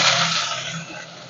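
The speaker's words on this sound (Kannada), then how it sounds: "ಈರುಳ್ಳಿ ಚೆನ್ನಾಗಿ ಫ್ರೈ ಆಗಲಿ" Onion, ginger and green chillies frying in a pan, a steady bright sizzle close by that eases slightly toward the end of the short moment.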